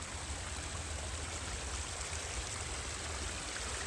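Steady rushing of a running stream, close and continuous, a broad even wash of water with no voices.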